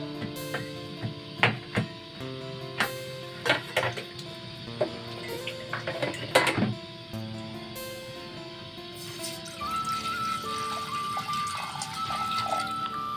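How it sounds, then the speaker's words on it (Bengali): Water is poured into a cooking pot on a lit gas stove while making green mango aamsatta. Scattered metallic clinks and knocks come first, then a steady splashing pour runs through the last few seconds. "অল্প পরিমাণে কিন্তু আমি জলটা দিয়ে দিলাম।"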